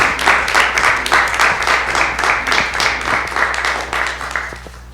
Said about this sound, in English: I would like the audience to join me in a round of applause to express our gratitude for our school district